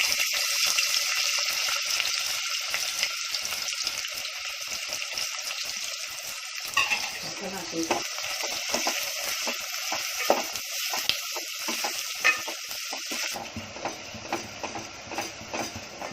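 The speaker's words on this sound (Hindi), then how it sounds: "अब ये तेल गरम हुआ, प्याज जाएगा।" Onions drop into hot oil for a Konkani pulao and fry with a loud, continuous crackling sizzle, close by, with scattered pops and stirring clatter before the frying settles into a softer hiss.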